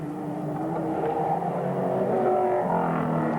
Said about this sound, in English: Here comes the number 10 car.